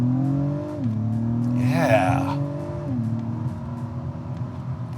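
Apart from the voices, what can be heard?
sports sedan engine accelerating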